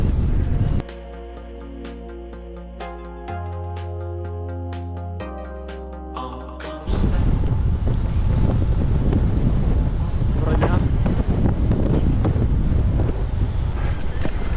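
Heavy wind buffets the microphone while moving against a headwind in snowy conditions, a loud continuous roar that takes over after several seconds of steady sustained tones.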